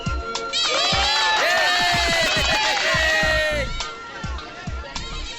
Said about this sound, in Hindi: आज तो यहाँ पर काफी भीड़ भाड़ है।